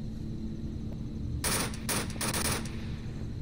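Gunfire in the VR shooter game Onward: two or three short bursts of rapid automatic shots over a steady low game hum, fairly loud and close, with no talking during the shooting.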